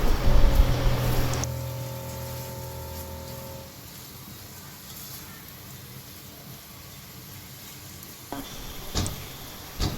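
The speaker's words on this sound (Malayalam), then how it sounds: "അത് കഴിഞ്ഞിട്ട് നമുക്ക് നമ്മുടെ മാരിനേറ്റ് ചെയ്ത ചിക്കനും ചേർത്ത് കൊടുക്കാം." Marinated chicken stirred into browned onions in a hot pan for a chicken curry gives a sizzling, scraping fry, loudest at the start, then settling into a steady crackle with a few sharp utensil knocks near the end.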